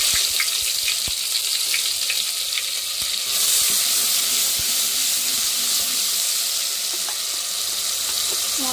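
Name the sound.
tomato paste added to hot oil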